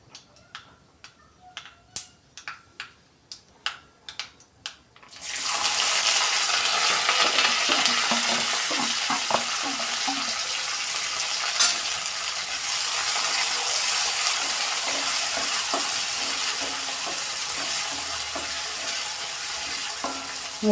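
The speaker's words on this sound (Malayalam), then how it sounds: "ഈ സമയത്ത് നമുക്ക് അരിഞ്ഞു വെച്ചിരിക്കുന്ന വെളുത്തുള്ളി, പച്ചമുളക്, ഇഞ്ചി, കറിവേപ്പില ഇതെല്ലാം ഇട്ട് മൂപ്പിച്ചെടുക്കാം." Chopped garlic, green chili, ginger and curry leaves drop into hot sesame oil for a sweet mango pickle. A few sharp clicks come first, then a loud, steady sizzle erupts and roars on, with occasional crackles and stirring scrapes.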